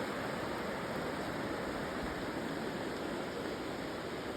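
A river flows along the Appalachian Trail between Connecticut and New York, its polluted water giving a steady, close, unbroken rushing hiss with no voices over it.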